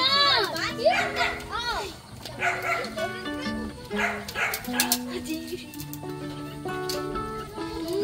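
A dog barks in short bursts amid lively children's voices and chatter, the barks mixed in with the playful noise nearby.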